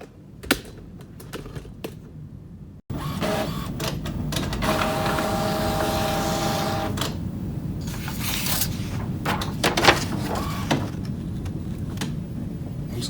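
An Epson XP 446 inkjet printer prints: after a short quiet start, a steady mechanical whir and clatter of the print head and paper feed runs close by, with repeated shuttling passes and no voices.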